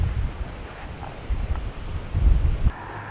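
Wind blowing outdoors on a windy October day, a low buffeting rumble with gusts swelling and fading against the microphone, close and continuous with no voices.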